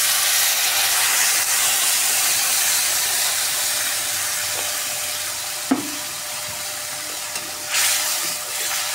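Spice paste hits fried onions in a hot pan and sets off a steady close hiss of oil sizzling, with a few brief stirring knocks and no talking.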